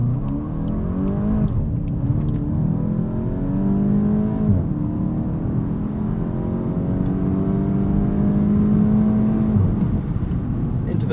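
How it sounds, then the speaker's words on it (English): A 2026 Volkswagen Golf GTI S engine revving hard and climbing through the gears, with rising whine between shifts, loud and close throughout. "I'm going to floor this out of the corner"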